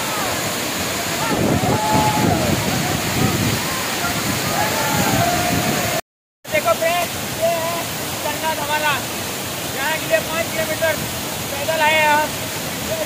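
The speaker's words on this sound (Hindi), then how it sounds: "यहाँ पर जो पानी गिर रहा है, यहाँ पर पानी गिर रहा है।" Apkhol waterfall roaring steadily as water pours down, a loud constant rush up close, with a short gap partway through and faint chirping sounds over the water later on.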